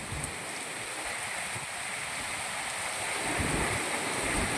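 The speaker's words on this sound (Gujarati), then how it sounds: "એક ધારો વરસાદ ચાલુ છે" Steady, heavy rain falls in Moti Gop, Gujarat, a dense, even roar of downpour with gusting wind that holds constant and swells slightly toward the end, with no voices.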